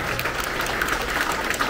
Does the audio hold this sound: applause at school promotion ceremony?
yes